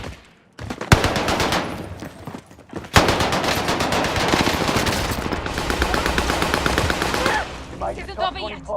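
Machine guns fire in a video game in long, rapid, loud bursts. The fire runs almost continuously, with a short pause before a second sustained burst that tails off near the end.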